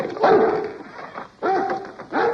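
A dog barks in short bursts mixed with high whimpering yips, close and fairly loud, the sound rising and falling in a few separate outbursts.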